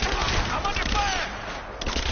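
Gunfire in Rise of the Tomb Raider: a continuous wall of overlapping shots and blasts, loud and dense throughout, with combat noise filling the whole moment.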